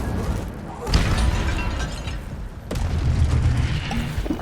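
A spell explosion from the Incendio fire spell in Hogwarts Legacy: a booming burst followed by a sustained rumbling roar, then a second thudding impact, loud and dense.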